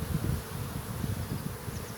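Honeybees crowd over an open brood frame during a hive inspection, giving a steady, close, dense buzzing hum that holds evenly throughout with no voices.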